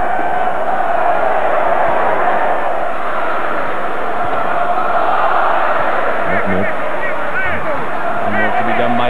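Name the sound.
football stadium crowd at Estadio Monumental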